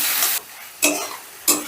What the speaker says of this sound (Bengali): এবার এটাকেও আমি বেশ ভালো করে নাড়াচাড়া করে ভেজে নিচ্ছি।